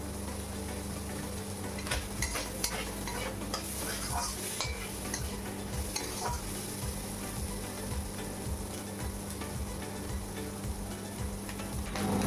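Flat beans and shrimp fry in a pan while being stirred, a steady close sizzle overlaid with repeated scraping and clinking of a utensil against the pan, with no voices.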